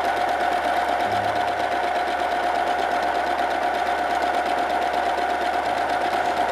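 A sewing machine stitches a table cover with a single needle, a steady fast whirring hum with a faint rhythmic mechanical knock, continuous throughout with no talking.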